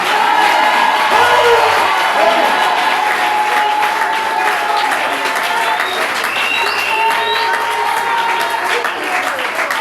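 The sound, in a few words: congregation applauding and cheering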